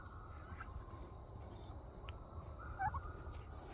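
Turkeys in their pen give a short, faint gobble partway through, heard distantly over steady low outdoor rumble and background hiss.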